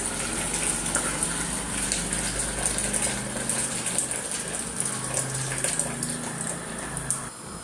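Clean boiling water gushes steadily into a cooking pot in a home kitchen, a continuous, close, rushing pour lasting several seconds with no one talking.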